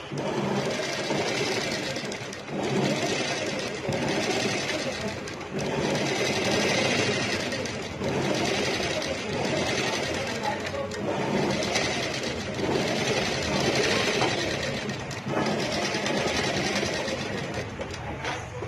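A sewing machine stitches a salwar in a tailoring boutique, running in repeated bursts of rapid whirring with short pauses between seams, close and fairly quiet.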